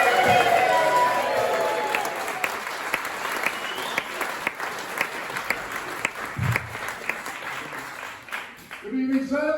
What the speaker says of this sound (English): We're going to start the applause and cheering.